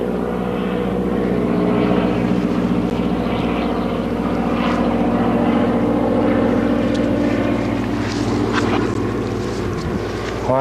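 A propeller floatplane drones overhead in the Alaskan wilderness, its engine a loud, sustained buzzing roar that holds steady and then shifts in pitch as it passes, with some wind buffeting the microphone.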